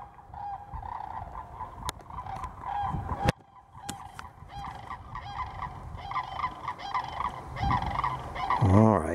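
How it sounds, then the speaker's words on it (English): Sandhill cranes calling at a drying freshwater pond in Florida, repeated loud rattling, honking cries in overlapping bursts, close by, over background noise. "here come the sandhill cranes."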